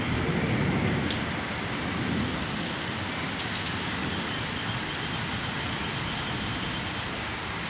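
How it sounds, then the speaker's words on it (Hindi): Steady, heavy torrential rain from a thunderstorm in Pakistan hissing loudly on surfaces, dense and unbroken throughout, with no voices. "क्या ज़बरदस्त बारिश है, मूसलाधार है।"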